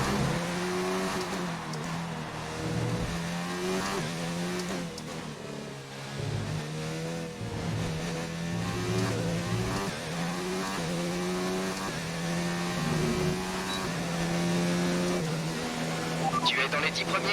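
Race car engine in the F1 2019 video game at the Spanish Grand Prix, high-pitched whine rising and falling through quick gear changes, continuous under a voice talking over it.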